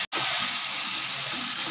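Water is poured into a cooking pot of spiced meat, a steady close gush that begins right after a brief silence and runs on evenly.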